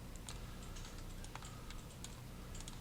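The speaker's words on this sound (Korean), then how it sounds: "컨트롤 D를 눌러서 하나 더" Computer keyboard keys click in a quick, irregular series of light taps, soft and close, with no talking over them.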